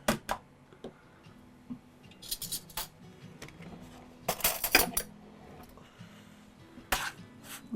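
A utensil stirs crumbled Ritz crackers with Parmesan cheese in a bowl, giving irregular clinks, scrapes and light taps of moderate loudness, with no talk.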